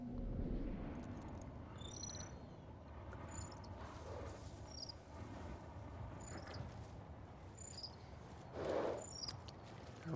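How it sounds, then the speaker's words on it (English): A singing cricket in Ghost of Tsushima's outdoor game world chirps in soft repeated high trills, spread across a steady rustling ambient bed with no voices. "Of course, there's a singing cricket right there."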